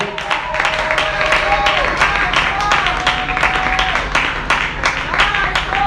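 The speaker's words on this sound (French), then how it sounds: "Acclame pour la gloire de Dieu." A church congregation applauds, a dense, steady wash of clapping that holds for several seconds, with a sustained tone underneath.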